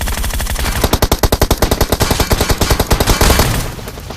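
Rapid automatic gunfire from PUBG Mobile on the Georgopol map, a loud sustained burst of evenly spaced shots lasting several seconds before trailing off, with no talk over it.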